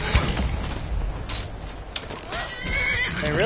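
A horse whinnies loudly and close in the video game Skyrim, a rising, wavering neigh with hoof-like thumps and shuffling, and a voice briefly in the background.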